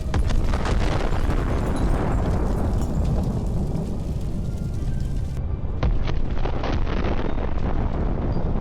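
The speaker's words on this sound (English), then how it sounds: "A powerful explosion." A powerful blast from explosives dropped by a drone on an MT-LB during a battlefield assault, a loud, dense roaring burst of noise that fills the whole clip, with an abrupt change in texture partway through.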